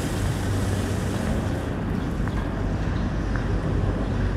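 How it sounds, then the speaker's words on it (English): Steady wind blowing at the Hong Kong harbour side near the Star Ferry Pier on a rainy day, a constant broad rushing roar with low rumbling buffeting, unbroken throughout and with no voices. "Just the wind."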